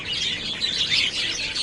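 A flock of white birds keeps up dense, overlapping chirps and tweets. The birdsong sounds busy and fairly loud throughout, with no voices.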